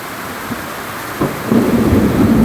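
A thunderstorm pours heavy rain over Georgetown, Guyana, as a steady, loud downpour hisses throughout, with low rumbling thunder swelling in the second half.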